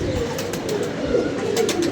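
Pigeons coo continuously in a low, rolling murmur, with several birds overlapping at moderate loudness, alongside light rustling and scattered high flutters.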